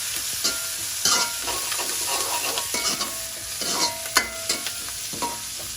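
Vegetables sauté in a hot pan with a steady, close sizzle. A spatula scrapes and knocks against the pan again and again, and no one speaks.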